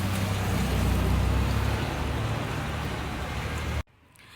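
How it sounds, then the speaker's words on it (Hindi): Rain begins falling on a street, a dense continuous hiss with a low rumbling undertone that holds steady for nearly four seconds and then cuts off abruptly. "बारिश शुरू हो चुकी है।"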